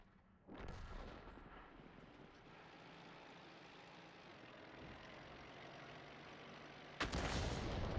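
An SU-14-2 self-propelled gun fires in World of Tanks with a heavy, booming blast that rolls into a long rumbling hum, then a second sharp blast near the end. No one speaks.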